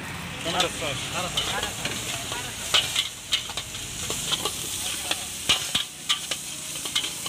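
A street vendor stir-fries fried rice with soy sauce and vinegar in a pan, giving a continuous sizzle punctuated by sharp metallic ladle clanks and scrapes, with voices in the background.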